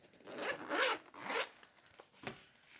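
A zipper on a planner-style folder being pulled open, two long rasping zips close to the mic followed by a couple of small clicks, with no talking over it.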